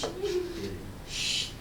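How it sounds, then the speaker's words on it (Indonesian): A brief bird call: a low cooing note followed by a bright, high chirp, heard close over a quiet background. "Suara burung, suara burung?"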